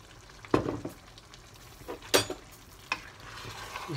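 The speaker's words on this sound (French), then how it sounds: "Je remue délicatement." Beans and sausages are stirred gently in a pan, giving a few soft scraping strokes over a faint, quiet sizzle.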